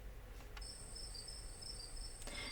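Crickets chirping at night in a sleepy little neighborhood in the video game Scarlet Hollow, a quiet, steady high trill running continuously over soft low background hum, with no voices.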